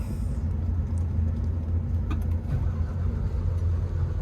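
A vintage DX420 tractor engine starts up and settles into a steady, loud low rumble with faint rhythmic knocking throughout, close by and without any talk.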